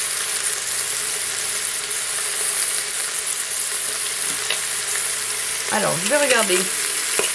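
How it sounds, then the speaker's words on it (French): Pork pieces browning in a pot after colombo powder is added, giving a steady close sizzle throughout while a person speaks briefly near the end. "Et maintenant, on fait dorer. Donc j'ai appuyé sur OK et ça continue à dorer."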